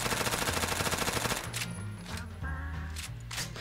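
MP5 submachine gun firing in the video game Phantom Forces, rapid continuous automatic bursts with brief pauses between them, loud and close.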